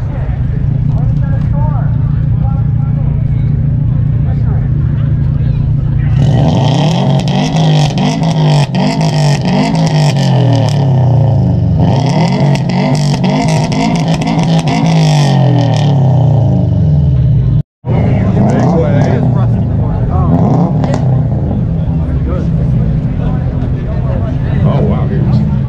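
The engine of a Subaru STI at a car meet rises through repeated loud revs, holds a droning high pitch, dips and climbs again, then cuts briefly. People talk throughout.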